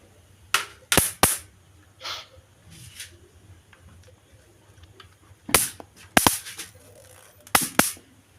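Sharp crackling zaps from a repaired electric mosquito racket killing mosquitoes, in short bursts with pauses between, some snapping twice in quick succession over faint background hum.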